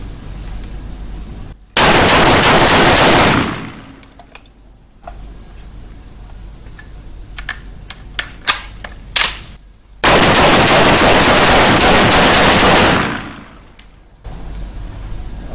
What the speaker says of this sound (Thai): อ่ะอีกสิบนัดเลยโอเค ต้องยิงสิบห้านัด